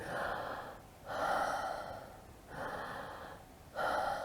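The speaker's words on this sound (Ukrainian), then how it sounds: "І ви дихаєте, ось таких вдохів видихів робите 50-60" Calm, steady breathing in a slow rhythm, shown as a breathing exercise for a child during a panic attack, with four soft breaths alternating between inhale and exhale, close and fairly quiet.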